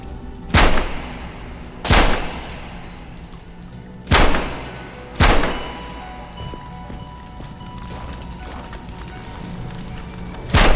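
Tokarev pistol gunshots in the Metro Awakening VR game, four loud, sharp, close shots at irregular spacing, each leaving a short ringing tail, followed by quieter mechanical handling noise and a final shot at the end.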